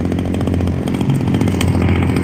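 A chainsaw sword in Warhammer Battle Sister revs hard, a loud, close, buzzing motor drone that stays continuous and unbroken with slight pitch wobble and no voices.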